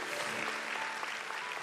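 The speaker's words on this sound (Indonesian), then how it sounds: "Beri tepuk tangan buat Allah yang besar." A church congregation applauds together, a steady, dense wash of hand clapping that holds evenly at moderate loudness through the short stretch without any voices.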